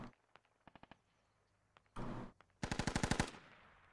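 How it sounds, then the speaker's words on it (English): Gunfire in the video game Squad, with scattered faint single shots, then a louder crack and a rapid burst of about ten automatic rounds, all at moderate distance. "Okay, they are shooting."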